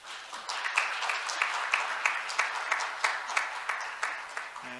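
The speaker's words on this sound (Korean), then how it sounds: "박수로 맞아주시죠." Audience applause welcoming a judge to the stage at an international patent court conference session on artificial intelligence, a steady, moderately distant round of clapping with regular accented peaks that carries on alone.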